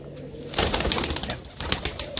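A domestic desi pigeon at a pigeon sale gives a short, close, throaty cooing call in a few quick pulses, with faint rustling around it.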